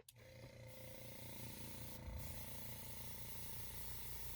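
A small air blower sprays alcohol marker ink in a steady soft hiss, starting with a click and continuing evenly with a faint pulsing hum underneath.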